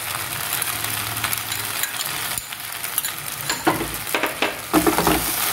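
Sauce being mixed into egg and vegetable pasta in a hot pan, a continuous sizzle with irregular stirring scrapes and knocks from a utensil, close-up and without speech.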